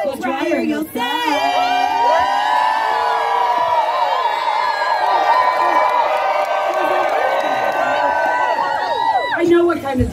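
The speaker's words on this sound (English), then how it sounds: "The louder you cheer, the drier you'll stay." A crowd at an outdoor water show cheers and whoops in a long, loud, sustained roar of many voices, with shouts rising and falling throughout and a voice calling out over it.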